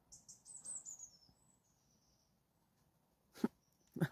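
Birdsong outdoors at dawn, including peeping robins: a burst of high, thin chirps and tweets in the first second and a half, then quieter background calls, with two brief louder broadband knocks or rustles near the end.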